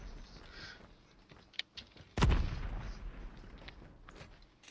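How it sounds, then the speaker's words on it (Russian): A single deep, booming explosion in Call of Duty Mobile rings out, rumbling and fading over a couple of seconds against a steady background hum. "я слышу, что где-то взрывается"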